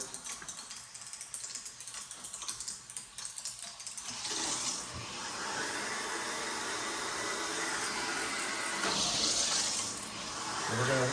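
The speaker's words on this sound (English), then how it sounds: "As the water flows through there, it's going to start to come out through this drain, through the air gap, and then down into our wall drain." Water from a newly installed water softener on a Rheem tankless water heater rushes through an air gap into a wall drain, a loud steady splashing hiss that starts about four seconds in after quieter fumbling sounds, continuing unbroken to the end.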